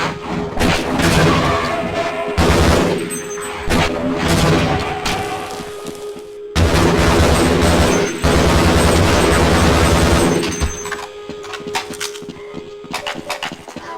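Heavy booming explosions and crackling bursts in Half-Life repeat loudly over dense, continuous game noise, with brief drops to quiet between them.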